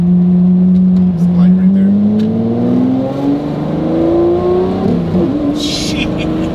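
A car engine hums loudly from inside the cabin on a test drive, its pitch rising steadily as it accelerates, then dropping with a gear change before climbing again.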